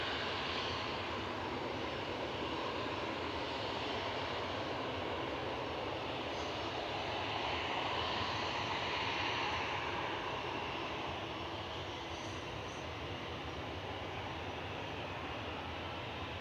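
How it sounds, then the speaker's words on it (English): Airbus A320 Classic jet departing Manchester Airport, a steady broad engine roar heard from a distance that holds at a constant level throughout, with no voices. "Next up for departures, GEZWB, an A320 Classic, 11-year-old aircraft"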